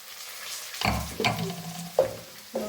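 Ivy gourd fries in a pan with a soft background sizzle, broken by several louder stirring scrapes and clatters spaced about half a second apart; no one speaks.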